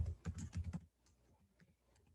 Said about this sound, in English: I'm typing this, it's just a little bit slower with one hand right now.